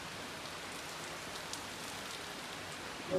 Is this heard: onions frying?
no